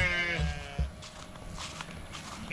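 A young lamb bleats on a farm, a couple of wavering cries near the start followed by quieter livestock noise and faint shuffling, close to the listener.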